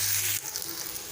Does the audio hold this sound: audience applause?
no